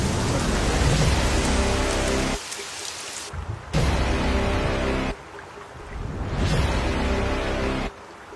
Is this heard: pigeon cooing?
no